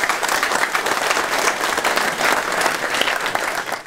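Steady, dense applause fills the room for newly sworn council members at a municipal council ceremony, loud and continuous with no voices over it.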